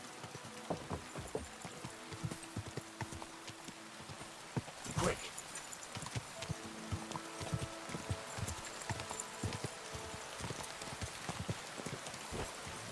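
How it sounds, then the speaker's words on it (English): Horse hooves clip-clop steadily in the rain in Kingdom Come Deliverance 2, a medieval role-playing game, with rain patter throughout, the hoofbeats near and rhythmic, and a brief shouted voice partway through. "Looks like a bloody expensive horse."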